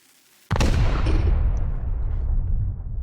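A single sudden, heavy explosion in the video game Rust bursts out and rumbles away into a long, decaying roar; no voices.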